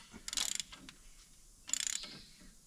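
Tap wrench ratcheting while threading an axle breather hole on a Jeep, two quick bursts of rapid metallic clicks separated by a pause, close and fairly quiet.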